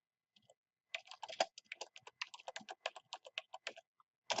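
Fingers type on a computer keyboard in Microsoft Word, producing a close, quick run of crisp key clicks in an uneven rhythm. The taps start in a sparse trickle and build into a steady burst against a silent background.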